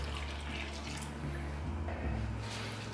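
Water is poured from a jug into a bowl of flour, semolina, salt and yeast mixture for pizza dough, a soft, continuous trickling and splashing heard up close in a quiet kitchen.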